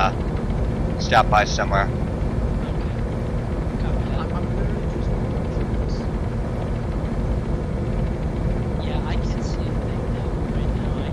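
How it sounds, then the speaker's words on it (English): Aircraft engine drone in a military squad video game, a loud steady low rumble filling the whole stretch, with radio-style voices talking over it now and then. "I can't really hear you over the, can't hear you over the engine"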